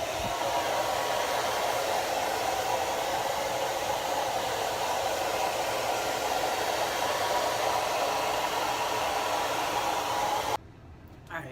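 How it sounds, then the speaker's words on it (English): A blow dryer blasts steadily on freshly washed dreadlocks, a loud continuous whooshing hiss that runs unbroken for about ten seconds before cutting off abruptly. "now I got all the rubber bands out of my hair, and I can keep hitting it with the blow dryer"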